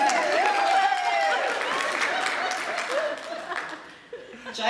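Applause and chuckling from an audience at a book launch, steady clapping with light laughter mixed in, holding at an even level and then tapering off.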